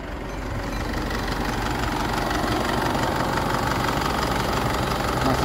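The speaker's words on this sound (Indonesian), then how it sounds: "Kita dengar ciri khas suara mesin Isuzu." An Isuzu D-Max pickup engine with 114,000 km idles with a steady, rumbling sound at an even pace, close and loud, with no talk over it.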